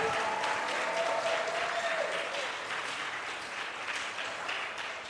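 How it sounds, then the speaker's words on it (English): A concert audience gives a sustained round of applause for an assistant faculty band at a string camp, with dense clapping that fades slightly toward the end and a voice briefly audible over it. "can we give another round of applause to that assistant faculty band?"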